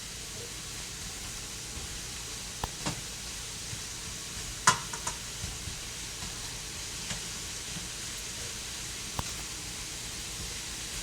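Onions sizzle in a pan with a constant close hiss of frying, dotted with a few faint clicks and taps from stirring.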